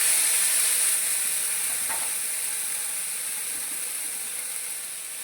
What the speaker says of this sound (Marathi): मसाला थोडासा छान परतून घेऊया आपण